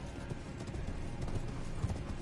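Steady clip-clop of horse hooves trotting at a brisk, even pace in the game Elden Ring, fairly close, with a low background rumble and no talking.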